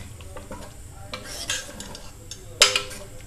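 Gongura mutton is stirred in a pot, with soft wet scraping and occasional metal clinks of the spoon against the pot, close and fairly quiet, one sharper knock near the end.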